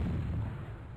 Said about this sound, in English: Yeah, I blew him up with an airstrike.